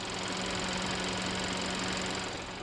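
A Hyundai Sonata 4-cylinder gas direct injection engine runs at a steady, even hum with a faint ticking texture, moderately quiet and unchanging throughout.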